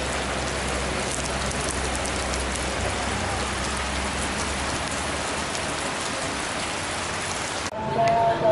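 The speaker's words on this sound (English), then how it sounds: "But it is raining." Steady rain pours down in a town street, heard from shelter under a closed shop's awning: a dense, even hiss of drops hitting surfaces that continues unbroken throughout, fairly close, with no voices.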